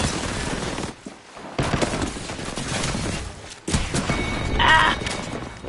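Enemy gunfire in Apex Legends cracks from across the map in several loud bursts, dense and continuous through most of the stretch with a couple of brief lulls.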